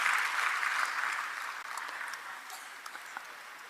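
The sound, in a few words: audience applause welcoming Deepak Dangi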